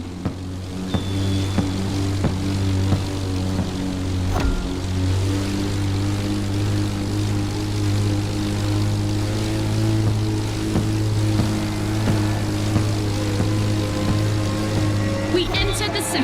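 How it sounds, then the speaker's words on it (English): Propeller-driven aerobatic aircraft in the racing game The Crew Motorfest, a steady droning engine and prop buzz held throughout at an even level with no breaks. "Stressed for 10G and capable of reaching 975 meters per minute, its size makes it the perfect aerobatic aircraft."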